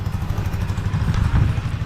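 Steady low engine drone from a tractor working to clear land nearby, a continuous rumble with faint clatter and no voices.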